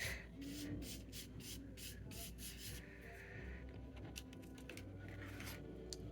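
Blue glitter is rubbed around by hand on a mixed media surface, making soft, continuous scratchy rubbing strokes with rhythmic brushing bursts, close and fairly quiet.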